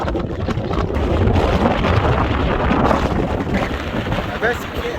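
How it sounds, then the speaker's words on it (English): Strong wind roaring in a giant dust and sandstorm, a loud, constant buffeting rush hitting the microphone with heavy low rumble throughout. "We're in the middle of a giant dust and sandstorm right now."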